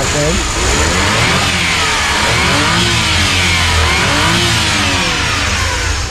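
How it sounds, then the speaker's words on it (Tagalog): A Suzuki DA64W 4x4 engine runs close by and revs up and down in several swells, loud and continuous, while someone talks over it. "Tapos yung andar ng makina natin"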